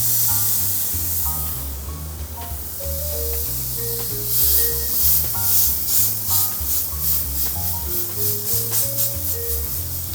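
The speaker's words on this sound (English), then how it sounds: "So we want to spray that bad boy just to make sure our meat doesn't stick on the grill." Cooking spray hisses onto a grill before a large tomahawk steak is laid down, followed by a steady, loud sizzle with rapid crackling pulses over a low background hum.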